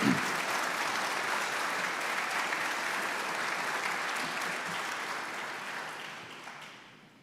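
Thick, continuous applause fills the room at the 2023 Georgia PGA awards banquet for the chapter's award winners, holding steady and then tapering away over the final second.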